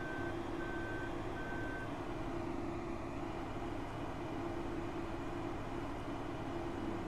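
A vehicle reversing in Farming Simulator 2015 gives three evenly spaced electronic warning beeps over a low steady engine hum, with the beeps stopping early while the engine drone continues.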